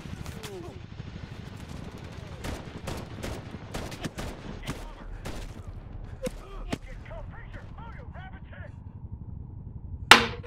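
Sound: gunfire in the Medal of Honor video game

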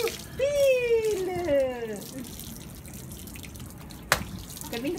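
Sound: water running and dripping

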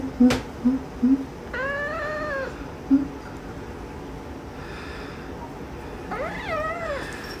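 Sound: cat meowing

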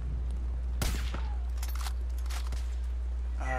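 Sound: gunfire from an AA turret in the video game Far Cry 5

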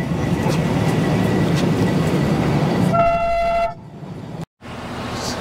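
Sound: Darjeeling toy train running on rails

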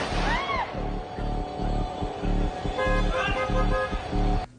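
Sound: car horn honking continuously

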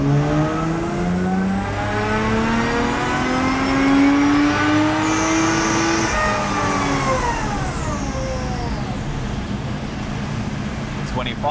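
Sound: Lexus IS200 car engine revving on a dyno at 50% throttle

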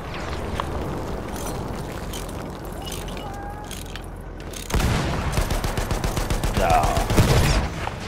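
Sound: gunfire in a video game

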